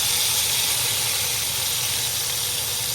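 Meat searing in a pan with little oil while cooking adobo, a loud steady hiss of sizzling fat filling the whole moment without pause, close up and with no voices.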